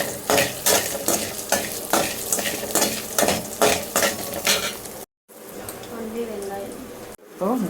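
Spices are lightly roasted in oil, with a spoon clinking and scraping against the pan in quick strokes over a low sizzle; a voice murmurs nearby and the sound drops out briefly twice.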